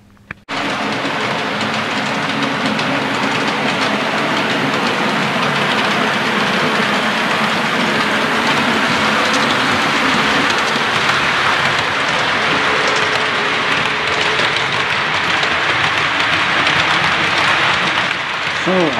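A steady, loud rumbling clatter of a Hornby W1 model train pulling Hornby coaches on track, continuous and dense throughout, with faint talk in the background.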